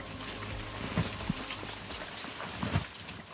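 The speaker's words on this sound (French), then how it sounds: "Il pleut sous terre." Rain-like water dripping inside a recent lava tunnel deep in the volcano on La Réunion: a dense, steady wash of hiss with scattered louder drips and splats echoing close by.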